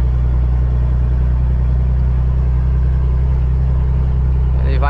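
A vehicle grinds up a steep mountain road in reduced fifth gear, its engine a loud, steady low drone with a constant rumble throughout.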